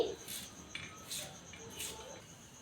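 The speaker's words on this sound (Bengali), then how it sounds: "এখন শসা কেটে নিচ্ছি" A knife slices cucumber in several soft, evenly spaced strokes against a board, each with a light clicking edge, quiet and close.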